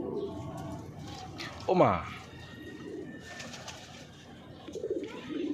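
A pigeon chick hisses defensively like a snake, one short harsh burst near the middle, with cooing and other bird sounds around it and a person talking throughout.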